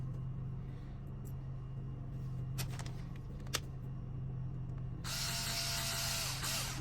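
Two small screws are driven back into a folding knife during a lock mechanism repair. A few faint ratcheting clicks sit over a steady low hum, followed by a loud broadband hiss near the end.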